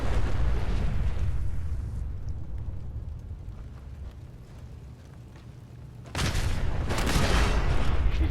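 A sentry bot blows up in Fallout 4, a loud sustained rumbling blast that fades through the middle, then a second sharp explosion bursts out near the end, close and heavy.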